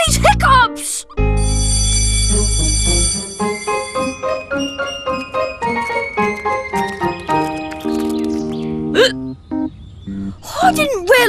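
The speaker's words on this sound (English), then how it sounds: "how am I going to get rid of these hiccups?" A cartoon boy hiccups repeatedly, sharp vocal squeaks that punctuate a bouncy, tinkling musical score, with further hiccup yelps near the end.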